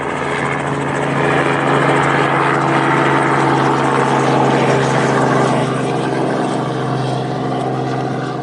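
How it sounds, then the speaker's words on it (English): A helicopter flies nearby, its steady rotor and turbine roar loud and continuous throughout at a preflight inspection of an SLG-2, with no voices. "And I'm going to wait for this helicopter."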